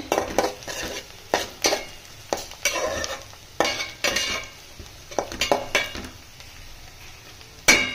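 Masala frying in a pan for boondi curry, with repeated spoon stirring and scraping strokes in bursts over a soft sizzle, close and moderately loud, no speech.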